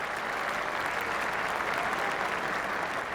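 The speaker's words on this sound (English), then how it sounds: "nothing could dilute the warm applause from those in the grandstands on the 18th" Warm, steady applause from a grandstand crowd beside the 18th green at the Open golf championship at Royal Lytham & St Annes, a dense even clapping heard from a short distance with no talk.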